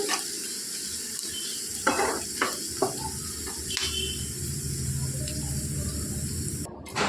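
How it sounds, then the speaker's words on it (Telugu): Long-sliced onions sizzle in hot oil in a pan, a steady soft frying hiss with a few clinks and stirring scrapes of a utensil against the pan. "అదే ఆయిల్లోనికి ఇట్లా ఉల్లిపాయలు అనేవి ఇలా పొడవుగా కట్ చేసుకొని వేయించుకోవాలి"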